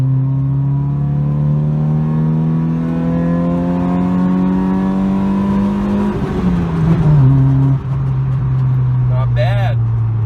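Honda Civic pulling hard in second gear from a rolling start, engine revs climbing in a loud, steady drone before a shift drops the pitch, heard from inside the car under some talk.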